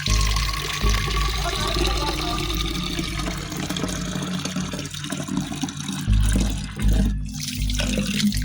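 Water is poured onto bean plants on an experimental farm in the dry season, a continuous splashing gush with a low rumble running steadily throughout, no talk over it.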